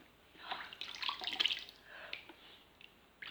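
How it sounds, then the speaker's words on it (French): Water splashes and trickles faintly as a beauty product is rinsed off by hand, with soft irregular drips and gushes close by over a quiet background. "Je rince comme je peux."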